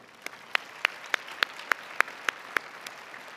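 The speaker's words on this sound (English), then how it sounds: "let's give all of our FFA participants another round of applause" A small audience at a state science and technology fair awards ceremony claps for FFA participants, a sparse, slow series of about ten single claps at an even pace, faint against a quiet room.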